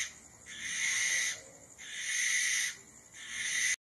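A great horned owl calling in the wild, three sustained, strong bursts separated by short pauses, each loud and close, ending abruptly.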